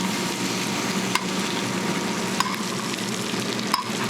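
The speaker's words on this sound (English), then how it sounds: "So to finish this steak, I'll probably baste it for about 1 minute." A filet mignon steak basted in a hot pan makes a loud, continuous sizzle. A few faint spoon taps land at even intervals, with no one speaking.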